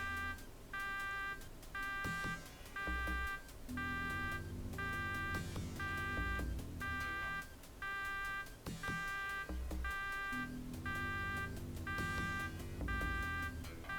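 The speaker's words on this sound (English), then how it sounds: "Just let the alarm die down." An alarm sounds in the video game Shadowrun, a repeating pattern of electronic beeps pulsing steadily over low droning game music, with no talk.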